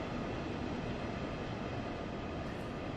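A train rolls past in the Train Sim World video game, a steady, broad rumbling roar of wheels on track held at an even level for the whole span with no voices.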